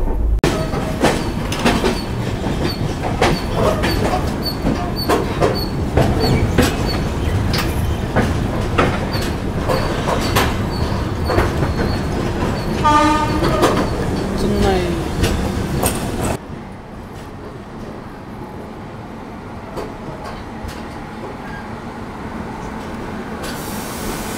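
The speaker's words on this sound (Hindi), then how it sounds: "अभी जो अपनी ट्रेन है इसने एनूर क्रीक पार कर लिया है" The Tamil Nadu Express running near Chennai after crossing Ennore Creek, with loud continuous rumble and rhythmic clickety-clack of wheels on rail joints, then a sudden drop to a quieter steady hum, with voices faintly in the background.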